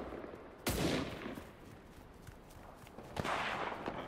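Gunfire in the battle royale game Cuisine Royale: a loud sharp shot near the start, then a second blast near the end with scattered faint shots and rustling between, no talk.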